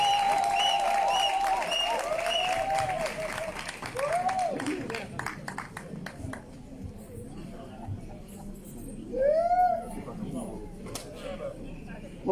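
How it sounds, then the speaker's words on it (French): An audience applauds as a speaker arrives at a public event marking Simone Ehivet Gbagbo's return from Congo. The clapping is sustained and crowd-wide, with a voice speaking over it at the start and again near the end. "On applaudit jusqu'à ce qu'elle arrive ici."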